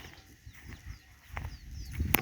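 Goats bleating as they are herded into a pen on a rural farm, a few faint, short calls scattered over quiet outdoor background noise, with a sharper sound near the end.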